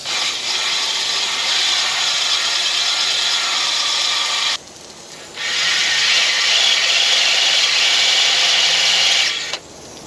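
Steady abrasive scraping of a hone working surface rust out of an engine cylinder bore during a 308 V8 rebuild, loud and continuous with one brief pause near the middle and a short dip at the end.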